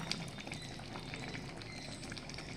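A soybean omelette curry simmers in a pan, giving a quiet, steady low bubbling with faint crackles, close and continuous with no voices.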